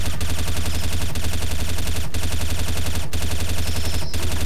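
Rapid automatic gunfire in Counter-Strike: Source zombie mod, loud and continuous, with sharp bursts repeating about once a second over a dense rattling bed, no talking.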